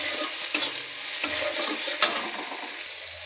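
Tomatoes with salt and turmeric stirred in a frying pan, giving a bright, continuous sizzle broken by a few spatula scrapes and taps, close and fairly loud with no talking.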